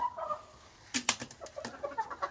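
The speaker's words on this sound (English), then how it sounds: "Way too many roosters in my opinion, but they're pretty birds" Roosters and chickens cluck and call in a yard in winter, starting faint and then breaking into a burst of sharp, close squawks and clucks with brief wing-like flutters.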